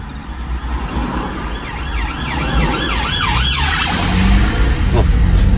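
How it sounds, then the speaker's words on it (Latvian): A police car siren wails past on a road, its rising and falling tone sweeping loudly over steady traffic rumble and vehicle noise, growing nearer toward the end. "Paga policija brauc"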